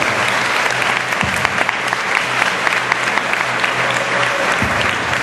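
A commencement audience gives a sustained round of applause for the graduating class of Batch 2012 at a high school's 56th commencement exercises, dense and steady clapping filling the hall with a couple of low thumps.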